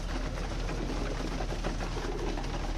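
Soft, low cooing of a pigeon over a steady background hum, the calls repeating in a gentle rolling rhythm.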